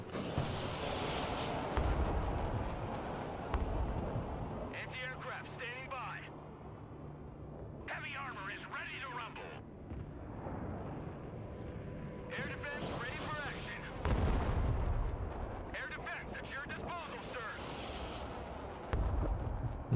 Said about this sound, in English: Let's get these guys firing now.